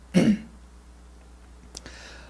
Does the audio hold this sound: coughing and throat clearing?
yes